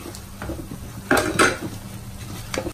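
Chicken sausage with turmeric being stirred in a pan, a utensil scraping and knocking against metal in a few bursts, close and clear with a low background hum.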